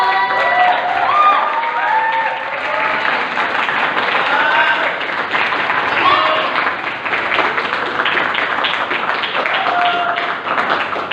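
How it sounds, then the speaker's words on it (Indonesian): Audience applause and cheering at an Indonesian school literacy event, a dense, steady wash of clapping mixed with crowd voices and some shouting, sustained loudly throughout. "Gimana tepuk tangannya buat Kang Bimo?"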